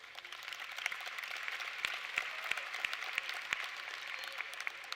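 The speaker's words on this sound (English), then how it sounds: "the applause and cheers of your family, friends, the faculty and staff, and the entire UPIKE community" Sustained applause from family, friends, faculty and staff at a university commencement ceremony, a steady dense wash of clapping with a few sharper individual claps standing out, fairly distant and even throughout.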